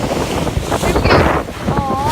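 Large waves on Lake Superior crash and throw spray close by, a loud, broad rush of surf and wind buffeting the microphone, with a voice calling out briefly near the end.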